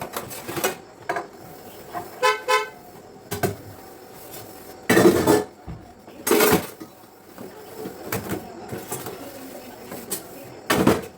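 Dishes clatter and clink in bursts at close range, with running water gushing in between and pots knocking as they are rinsed.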